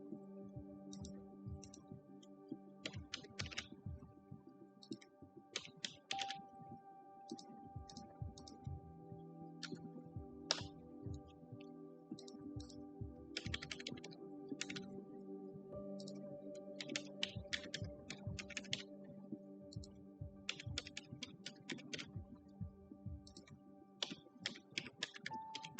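Quiet, steady typing on a computer keyboard while an online form is filled in, with bursts of rapid key clicks separated by short pauses under a faint background hum.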